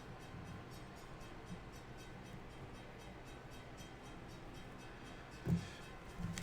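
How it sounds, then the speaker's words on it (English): A passing train rumbles steadily with a faint rhythmic clatter, fairly quiet and continuous, with a short sharp burst near the end. "now we hear the train, and before the whistle comes, it does sound like repeated hammer strokes"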